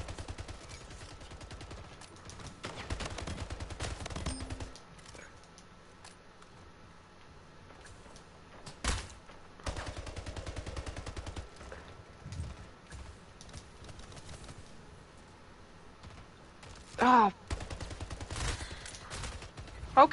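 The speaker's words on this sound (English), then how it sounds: "Okay, stop shooting me!" Rapid bursts of gunfire from the arena shooter Splitgate crackle in scattered volleys, with sharp louder shots near the end, while a player talks intermittently over the fighting.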